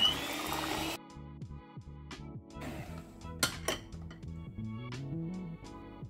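Sugee cake batter with three whole eggs and three egg yolks is mixed in a bowl, producing a steady run of light clinks and scraping knocks with a wet churning texture, close and fairly quiet.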